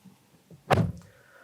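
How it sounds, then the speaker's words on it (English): A single solid thunk of a 2019 Subaru WRX STI S209 door closing nearby, heavy and muffled, in an otherwise quiet space. "Now, shutting the door,"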